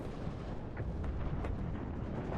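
Artillery and mortar fire in the war strategy game WARNO, heard as a steady low rumble with a few faint, distant thuds and pops over a constant noisy background.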